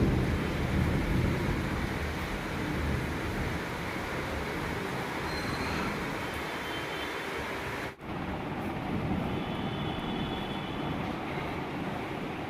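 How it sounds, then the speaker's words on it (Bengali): Steady evening rain in Kolkata pours down evenly, with a low rumble that fits distant thunder. A brief dip in the sound falls near the middle. "যাক বাবা, একটু বৃষ্টি হলো।"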